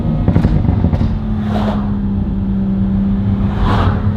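A car with a ZF 8-speed automatic transmission revs after a downshift to first gear, a loud steady engine drone with a humming tone, close up, with brief whooshes over the top.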